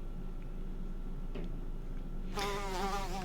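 Bees in Lord of the Rings Online, heard over a steady game ambience with faint ticks, then a loud, close, warbling buzz sweeps in and hovers for about a second.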